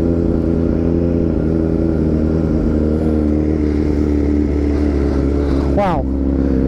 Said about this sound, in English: all of that noise and drama is coming from that beautiful SC Project exhaust